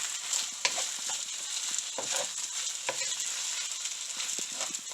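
Green onions stir-fry in a pan, giving a soft, even sizzle with light, irregular scrapes and taps from stirring, close by and fairly quiet, with nobody speaking.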